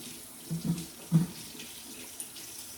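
Food rinsed under a running kitchen tap while making peach cobbler dumplings, with two short splashy bursts of water over a steady soft hiss.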